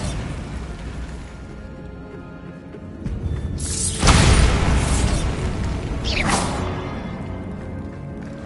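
Two booming magical blasts from the Bombarda spell in Hogwarts Legacy burst over a low ambient game bed. The first is heavy and loud; the second, about two seconds later, is lighter and fades quickly.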